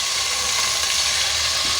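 Ginger-garlic paste and ground onion sizzle steadily in a hot pan after a splash of water goes in, a dense, even frying hiss with no voices.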